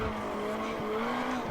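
Rally car from Richard Burns Rally on a sealed tarmac stage, engine droning steadily with a sustained tire squeal and skid running through, close and continuous.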